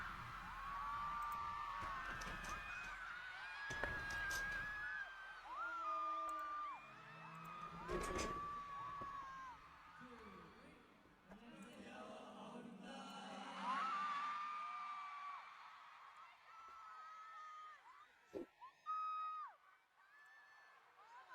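A crowd at a fan concert whoops and cheers in bursts, loud swells of shouting and screams with higher voices mixed in, while nearby people talk and exclaim between the waves of noise.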